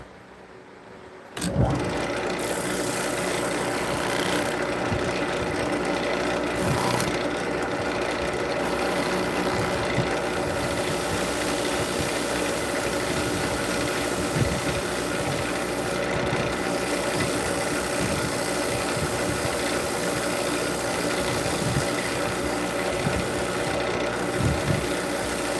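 A bigger wood lathe spins up after a sharp start and runs on steadily, a continuous mechanical whir with faint rhythmic flutter and occasional light scraping, no talking.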